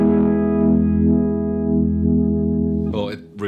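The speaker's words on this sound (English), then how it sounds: "It's almost like a Leslie when you hear the speaker spinning up" A Cornerstone Aquarium univibe pedal on guitar gives a sustained chord that swells and throbs slowly like a spinning Leslie speaker, loud and steady, before a voice cuts in at the end.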